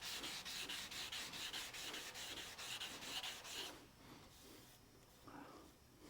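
Guide coat is rubbed onto a car pillar during bodywork, a close, rhythmic dry scrubbing in quick back-and-forth strokes that fades to quieter, irregular rubbing near the end.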